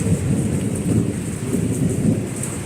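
Low thunder rumbles steadily through a storm, a continuous deep roll with a soft hiss of rain on top and no voices.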